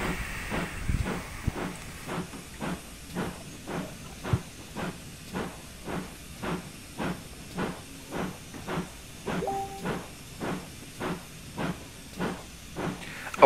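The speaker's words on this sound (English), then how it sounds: "I've got the regulator in full pilot and I'm blowing off, making steam." A steam locomotive in Train Simulator on the Riviera line in the fifties, blowing off steam with a steady hiss while its exhaust beats out regular chuffs, about two per second, close and rhythmic.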